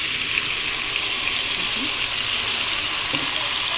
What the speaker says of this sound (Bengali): এবার আমি মাখানো চালটা দিয়ে দেবো।